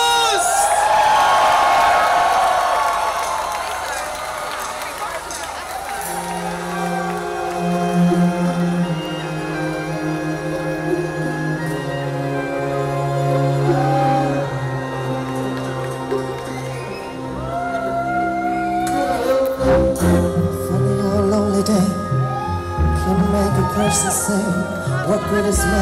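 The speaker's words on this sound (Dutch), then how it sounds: "Geef een heel groot applaus." A large outdoor Human Rights concert crowd in Amsterdam cheers and whoops loudly for Conchita Wurst, a dense roar that carries into the opening of a sustained, melodic live song playing over the fading crowd noise.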